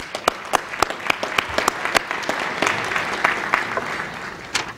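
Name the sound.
audience applause for board members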